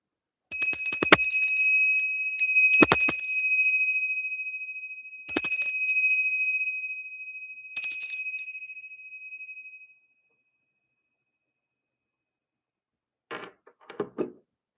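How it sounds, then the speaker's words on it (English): A copper bell struck four times at intervals, each a bright metallic ring that sustains and fades slowly, followed by silence and a few faint handling knocks near the end. "Let me know if you feel the vibration of this copper bell."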